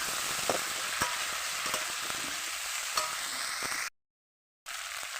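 Potatoes and tomatoes fry in ground spice paste in oil while being stirred, a steady close sizzle with occasional scraping clicks, cut by a short gap of silence near the end before the sizzling resumes.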